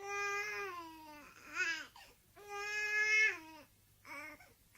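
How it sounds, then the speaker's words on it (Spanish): A newborn baby cries on an album, in three or four separate wailing bursts with short gasping pauses between them. The cries are fairly quiet and have no other voices around them. "cuando nace el bebé"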